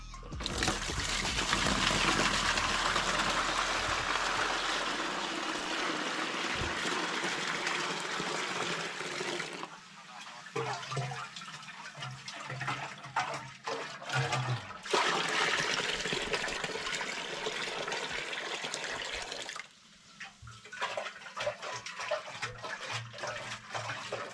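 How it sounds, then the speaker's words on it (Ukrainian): Acidic, rusty water gushes and splashes steadily into a container as it drains from a Dnepr motorcycle fuel tank, pausing briefly twice before pouring again, loud and close with a trickling edge. "зараз ми зілємо цю воду вже з кислотою"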